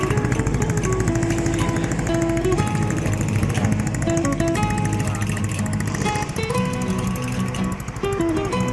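A Yamaha Mio scooter with no battery runs with a steady, loud, buzzing engine drone that holds its pitch throughout.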